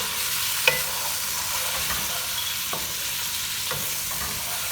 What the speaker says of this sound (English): You want to toast the spices in this.